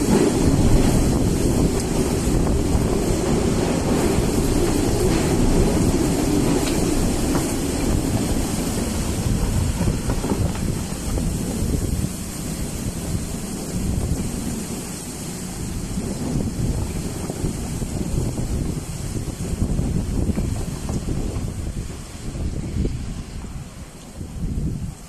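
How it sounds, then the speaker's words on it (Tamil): Strong wind during a rainstorm in Kuwait roars and buffets the microphone in heavy continuous gusts, loud and close, easing slightly midway before surging again, with no talk. "செம்ம காற்று அடிக்குது."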